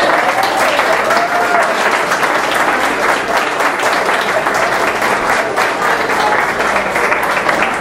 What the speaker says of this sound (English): Let's give a round of applause to Appendix Timmy Ford